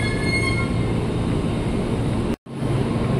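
A train rolls steadily through Jatinegara station in a continuous loud rumble of wheels on rails, with a momentary dropout near the end before the sound resumes.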